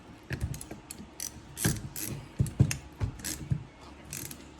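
A ratchet tightens bolts on a Baja buggy build, giving several close, short bursts of sharp clicking separated by brief pauses, with no talking.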